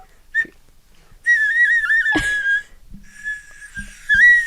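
A bought novelty whistle is blown in long, shrill, wavering blasts, with a short chirp first and a sharp thump midway, loud and close with no talking over it.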